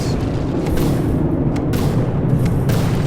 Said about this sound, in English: one of those torpedoes was able to make its way into the ammo stores of the Wet Weenus and just completely take them out